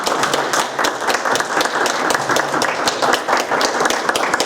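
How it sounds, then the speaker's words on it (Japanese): Sustained applause from a lecture audience at a peace research talk, many hands clapping in an even, continuous patter from start to finish. "ジョン・ヨハン先生並びに 通訳をしていただきました北条志郎さんに再度拍手をして"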